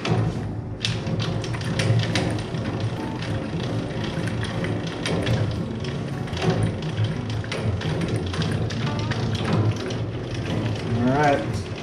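Ratchet handle cranking down an ARK XO500 trailer tongue jack, a steady run of close mechanical clicks and clunks with occasional thuds throughout, with no talk over it.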